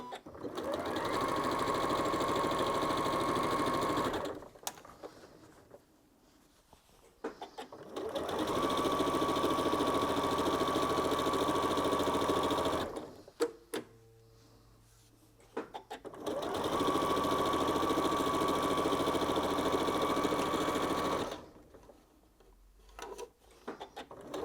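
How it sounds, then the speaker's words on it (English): A sewing machine fitted with a 1/4 inch foot stitches a cushion seam in three steady bursts of rapid, even whirring, separated by short pauses with faint handling sounds. "I've got a 1/4 inch foot on my machine, and I'm just going to join this right sides together"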